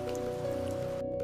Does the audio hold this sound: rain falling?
yes